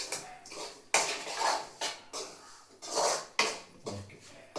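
Curry being stirred in a pan with a metal spoon: a series of rhythmic scraping and clinking strokes, close and fairly loud, with brief pauses between them and no voices.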